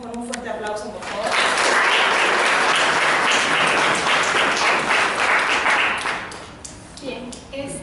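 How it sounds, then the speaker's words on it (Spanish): An audience gives loud, sustained applause to welcome two nursing students at a talk on reading, culture and literature, building quickly, holding steady, then fading out as a voice resumes. "a quienes recibimos con un fuerte aplauso, por favor"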